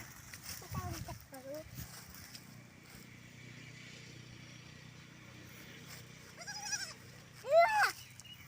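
Goats bleat several times, a few faint calls early and a louder, wavering bleat near the end, with people talking in the background.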